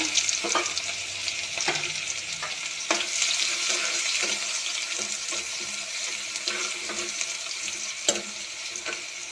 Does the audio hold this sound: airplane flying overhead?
no